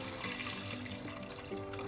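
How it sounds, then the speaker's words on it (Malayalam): Water poured into a pan of kudampuli fish curry, a continuous splashing, bubbling pour lasting the whole moment, close and fairly loud with no talking. "ഈ സമയം നമുക്ക് മീൻ വേകാൻ ആവശ്യത്തിന് വെള്ളം ചേർക്കാം."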